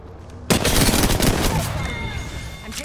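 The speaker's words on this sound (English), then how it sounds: "I'm taking shots." Rapid bursts of automatic gunfire in Apex Legends, loud and close, beginning abruptly after a brief quiet moment and continuing as dense rattling volleys with game effects layered over them.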